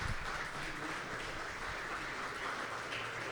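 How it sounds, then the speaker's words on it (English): Applause for the panelists at a manufacturing leadership event: a dense, steady crowd clapping that stays fairly distant and even throughout, with no talk over it. "One more round of applause for our panelists tonight"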